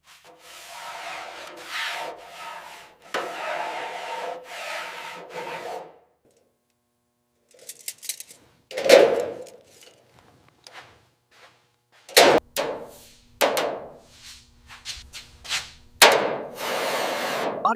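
A hammer striking a wooden block to tweak the steel trunk panel of a 1937 Bugatti Type 57SC Atlantic, with sporadic sharp knocks and scraping rubs separated by quiet gaps, close and fairly faint.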